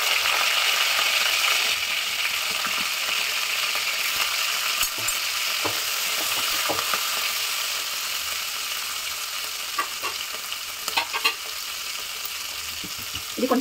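Green chillies fry in hot oil with cumin and mustard seeds, giving a steady, close sizzle with scattered crackles and small pops and no voices.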